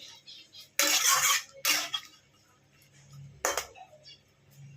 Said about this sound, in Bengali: ছেড়ে দিয়ে আমি ভালো করে নাড়িয়ে নিচ্ছি